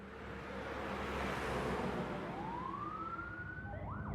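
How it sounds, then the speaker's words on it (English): Police car and ambulance sirens wail steadily in the street as emergency vehicles rush toward a house, one siren's rising sweep standing out clearly over a loud, continuous wash of traffic and engine noise. "an ambulance and a whole bunch of police cars came screaming up and parked in front of her house"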